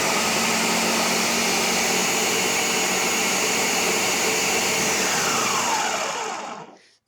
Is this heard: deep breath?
no